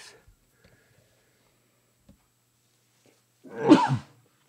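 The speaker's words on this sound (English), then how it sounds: "I gotta sneeze." A single sharp sneeze bursts out near the end after a stretch of near silence.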